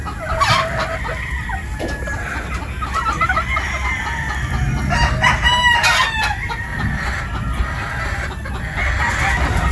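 Pullets and laying hens of a 50-50 sweater cross on a poultry farm cluck steadily and crow in short bursts, several birds close by with continuous barnyard background and no talking.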